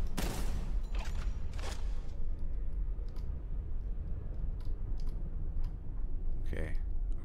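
Gunfire in the shooter game Boltgun, with a few sharp blasts near the start and end over a busy low rumble of game noise, and a person talking through it.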